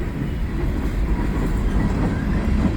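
A heavy CN mixed freight train with three locomotives rumbles past steadily, loud and close, with a continuous low roar and faint rattling of wagons.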